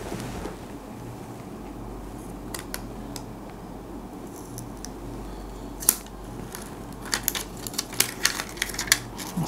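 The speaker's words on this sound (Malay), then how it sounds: "Sebelum tu kita buka tu plastik dia." Plastic film is peeled and crinkled off a new black iPhone 7 Plus, with sharp crackles and rustles growing busier toward the end over a low background hum, no talk.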